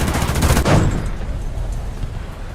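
A burst of autocannon fire in War Thunder, a loud rapid volley of shots in the first second that fades into a rumbling tail and low background noise.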